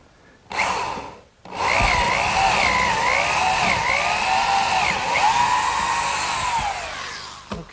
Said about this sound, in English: for those dowels, I'm going to use a 3/8 inch brad point bit